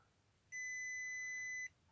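A WinAPEX touch-sensing multimeter's continuity buzzer gives one steady, high electronic beep lasting about a second, clear and close against a quiet background, with no speech.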